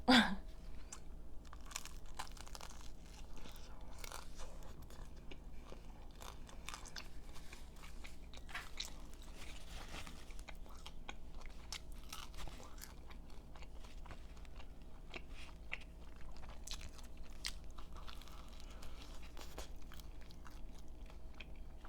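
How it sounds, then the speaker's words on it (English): Close, steady crunching bites and chewing of a Vietnamese banh mi sandwich on a crusty baguette, continuous wet and crisp mouth sounds through the whole stretch with no talking. "with Vietnamese sandwiches with a baguette, each bite is full of crunch"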